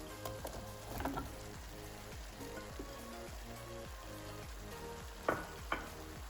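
Liver and potatoes fry in a pan for a liver sauté, giving a steady close sizzle with low rhythmic stirring scrapes and a couple of sharp utensil clinks near the end.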